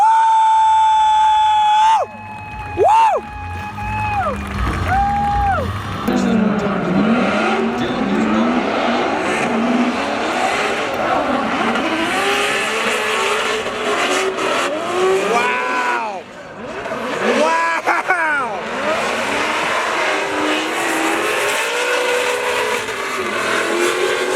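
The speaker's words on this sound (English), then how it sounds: "next up, the Garagistic BMW on Federal tires." A BMW E36 drift car on Federal tires at a Formula Drift event roars with a high, rising and falling engine note and squealing tires, loud and continuous while an announcer talks.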